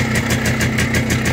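A Minsk motorcycle engine idles close by, a loud steady putter with an even rapid pulse and no voices.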